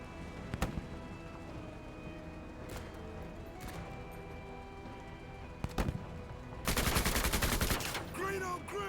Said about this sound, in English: See if I can shoot at them this way.